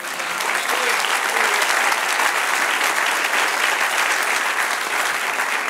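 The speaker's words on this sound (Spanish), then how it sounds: "Denle un aplauso al Señor." A church congregation claps steadily and loudly, a dense sustained burst of applause.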